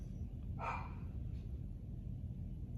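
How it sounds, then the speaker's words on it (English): Dracula, a pet dog, gives one short bark from some distance over a steady low background hum, and the rest stays quiet. "That is my doggy Dracula barking."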